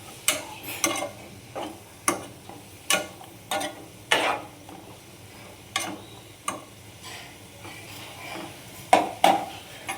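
Leafy greens (bhaji) cook in oil in a pan, a faint sizzle running beneath irregular, close spoon-stirring scrapes and clinks against the metal, with no one talking.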